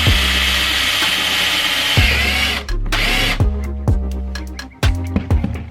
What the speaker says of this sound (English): pull the snorkel out and drill a hole through it